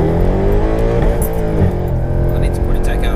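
A tuned Mercedes C63 AMG making 530bhp pulls hard from a roll, its engine roaring loud and close in a steady drone with a rising tone, while voices talk over it inside the cabin.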